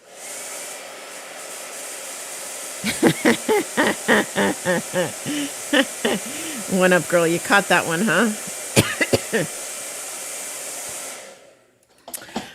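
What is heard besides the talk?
hair dryer blowing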